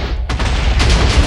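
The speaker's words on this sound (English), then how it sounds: "I might die in this explosion" Explosion in a video game, a loud sustained roar of blast noise with rumbling low end and crackling debris, constant throughout with a fresh surge partway through.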